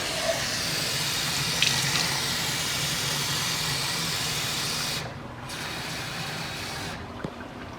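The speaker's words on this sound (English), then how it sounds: "with the last can, you're going to rinse the sauce off the side." Tap water running steadily into an empty tomato sauce can to rinse it out while cooking meatballs, a close, even hiss that briefly cuts out and resumes.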